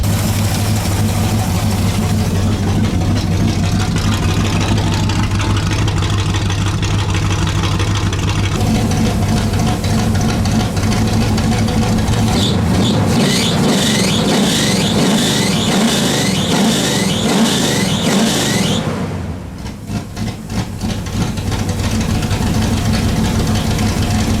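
Pontiac Bonneville engine running with a failing alternator belt, a loud steady idle with low rumble, rhythmic revving pulses midway, then a drop as the engine is shut off.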